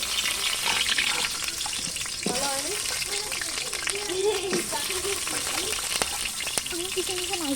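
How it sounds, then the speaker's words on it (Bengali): Potatoes frying in hot oil on a wood-fired stove give a steady, close sizzle and crackle throughout, with a person talking over the cooking. "এই দেখো আগে হচ্ছে আলুটা একটু ভেজে নি"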